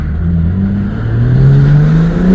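A car engine revs with its exhaust valves stuck closed, a muffled, steady low drone whose pitch climbs gradually as the revs rise, close and fairly loud.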